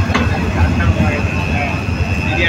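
A train passes Sholoshahar railway station in Chittagong with a loud, sustained rumble and a high steady whine, heard close throughout.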